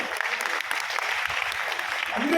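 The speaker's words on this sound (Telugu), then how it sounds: "మనందరూ కూడా చప్పట్లు కొట్టాలి" An audience claps at a public talk, a dense, even burst of applause that swells slightly toward the end.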